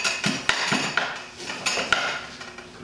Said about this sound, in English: there's a little cutting wheel on there, and you just tighten it towards snug, and then you go around one way, you go around the other way